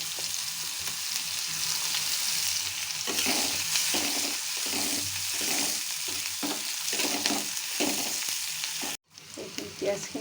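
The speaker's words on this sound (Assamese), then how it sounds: "এয়া সৰিয়হখিনি ফুটিলে এতিয়া মই ইয়াতে দিম পিঁয়াজ।" Onions frying in oil with popped mustard seeds, a dense close sizzle with repeated scraping stir strokes in an irregular rhythm, briefly cut off near the end before resuming, no talk.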